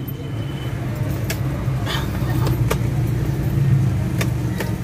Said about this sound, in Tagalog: Paandarin natin, pakiramdaman natin yung makina kung ano yung problema.